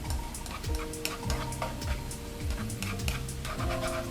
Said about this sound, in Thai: ใช้เวลาเจียวไปสักพักดูจนหอมเริ่มมีสีเหลือง จังหวะนี้แหละ คนไปเลย